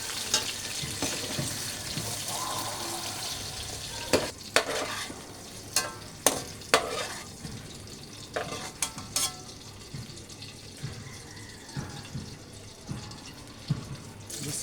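Ladyfish (bidbid) fries in a pan with a steady sizzle, broken by scraping and clinking utensil knocks as the pieces are stirred and turned, close by with no talk.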